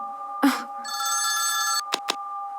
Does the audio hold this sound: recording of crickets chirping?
no